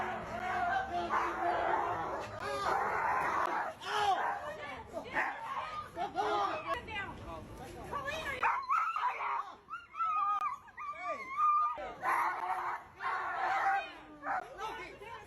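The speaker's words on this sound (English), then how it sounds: "We have a pit bull on, guess what? A harness, absolutely destroying what appears to be a golden retriever" A pit bull in a harness attacking a golden retriever in a dog fight, with barking, yipping and whimpering mixed among loud overlapping voices throughout.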